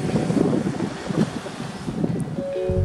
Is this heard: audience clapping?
no